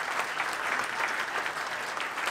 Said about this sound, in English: Can I have one more round of applause for